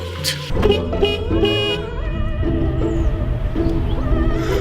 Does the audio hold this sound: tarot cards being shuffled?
no